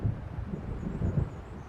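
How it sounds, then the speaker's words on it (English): An approaching storm in the video game Alan Wake brings low, rumbling thunder and gusting wind, a dark continuous roar with soft swells. "It seems there's a storm coming."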